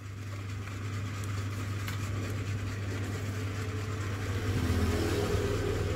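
A 1:18 scale remote control Ferrari toy sport car drives forward, giving a steady low motor whir with a faint electric hum that swells slightly toward the end, continuous and moderately close.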